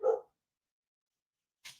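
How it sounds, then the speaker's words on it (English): A dog gives a single sharp bark close by, followed by a pause of silence and then a faint brief scuff. "Go make the dog bark."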